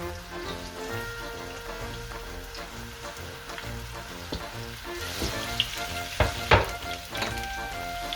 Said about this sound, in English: Now we add the onions and the garlic.